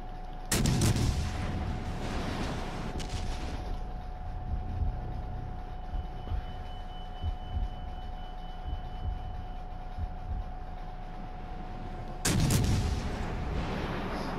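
Ship guns firing in a naval warship battle game, two heavy booming salvos about twelve seconds apart, loud and close, with rumbling engine and battle noise continuing between them and no speech.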